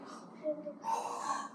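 A voice imitates a big brown bear snoring while it hibernates in its forest cave, giving a short, breathy snort-like rasp that swells toward the end, close and fairly quiet.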